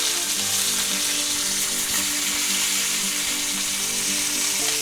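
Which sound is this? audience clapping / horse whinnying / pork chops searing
pork chops searing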